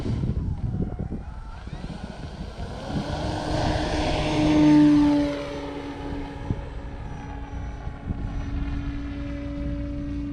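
An E-flite Carbon-Z T-28 RC airplane's electric motor whines overhead in flight, swelling louder as it passes near and then fading into a steady, distant drone, with a soft whooshing bed underneath.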